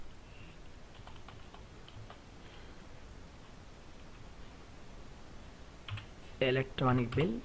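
Soft, steady clicking of keys on a computer keyboard while entering figures into accounting software, with scattered keystrokes and a person starting to speak near the end.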